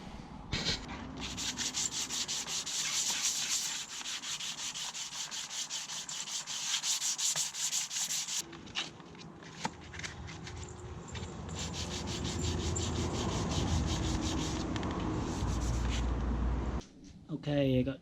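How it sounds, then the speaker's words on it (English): Sanding scrapes back and forth over the tail panels of a BMW K100 cafe racer motorcycle in a continuous, loud rasp that shifts in tone partway through, while a person talks at moments. "So let's pull these off and get them sanded down."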